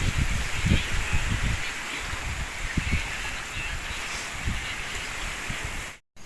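Steady wind blows outdoors at Lumot Lake, Cavinti, with rustling and low gusty buffeting against the microphone, continuous throughout before cutting out abruptly near the end.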